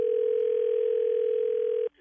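A loud, steady telephone dial tone holds at one pitch for nearly two seconds while a three-way call is being placed, then cuts off abruptly.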